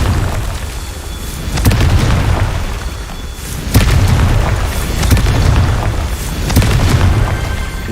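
A Confringo blasting curse exploding in the Hogwarts Legacy video game, heard as loud, deep booms that swell and roll in waves over a constant rumbling background.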